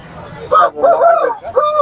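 Chickens clucking and crowing nearby in short, loud bursts, one after another, at the Pallavaram Friday market.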